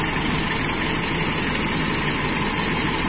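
Motorcycle engine idling steadily during a carburetor test of large versus small stationary jets, a loud, constant, close low rumble with no talking.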